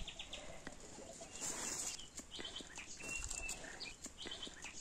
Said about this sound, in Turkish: Duyuyorsunuz kuş seslerini.